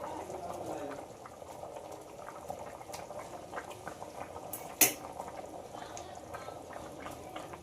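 Curry gravy with boiled jackfruit seeds and egg fritters bubbles in a pot at a moderate level, with soft clinks of a utensil and one sharp metallic clack midway; a voice speaks faintly in places.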